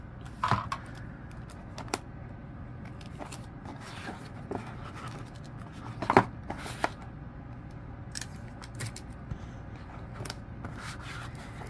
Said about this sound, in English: I will tape both sides with tape